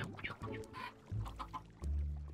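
Chickens cluck in a blocky sandbox video game, a few short clucks and squawks scattered over quiet low background noise, fairly faint overall.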